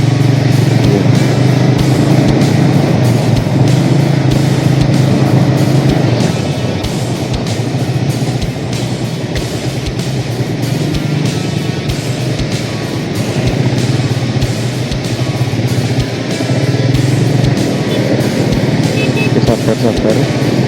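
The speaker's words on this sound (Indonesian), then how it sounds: "di depan ada mobil guys, terus berbagi jalan, dan minggir malah ya" A car passes along a narrow, potholed road beside the Selokan Mataram irrigation channel in Jogja, heard from a riding vehicle as a loud, continuous engine and road drone that swells and eases.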